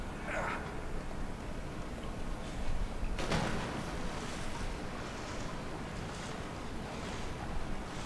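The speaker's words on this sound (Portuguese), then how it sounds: "Aí vou ter que pular nessa água fedida." A game character in the horror game The Evil Within jumps into foul water, giving a sudden splash-like burst midway through over steady watery, windy ambience.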